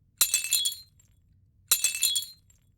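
Two separate bursts of glass cracking and splintering, each crisp and brief with a scatter of tinkling fragments, meant for a windshield crack effect, close and clear over near silence.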